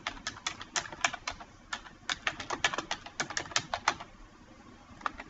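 Rapid keystrokes on a computer keyboard while an author's surname and first name are typed into a citation form, crisp and close, in quick uneven bursts with short pauses and no talking.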